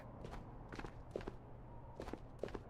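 Footsteps sound in the Ghosts of Tabor shooter game, several soft, muffled treads in small clusters across a few seconds, faint and distant over a low steady hum.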